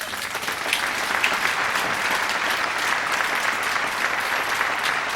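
An audience at a 2007 concert applauds steadily, a dense continuous wash of clapping that stays loud and even throughout without a break.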